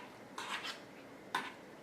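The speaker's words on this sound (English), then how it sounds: "You just kind of want to lightly fold this mixture together." Crab meat being lightly folded into a crab cake mixture in a bowl gives two or three soft, brief scrapes and clinks of a utensil against the bowl, quiet and close, with no talking.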